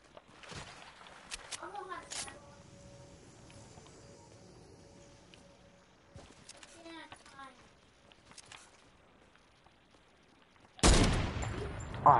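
Sniper rifle shots in a Fortnite match, a few sharp cracks scattered through the clip with a loud burst at the end, under sparse voices talking over quiet game ambience.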